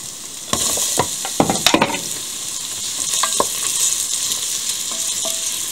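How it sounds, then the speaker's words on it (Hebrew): Coarsely diced onion sizzles steadily in hot canola oil in a pan, a continuous close frying hiss broken by a few sharp clatters of stirring near the start. "אני נותנת לזה כך טיגון בישול בערך של כ-5 דקות"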